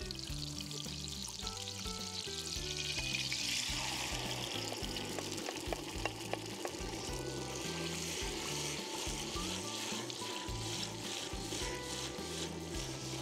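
About two litres of water pour into a cooking pot that already holds duck fat, oil and chopped tomatoes for a guinea fowl brine stew. The stream runs steadily and close for about thirteen seconds, with no one talking.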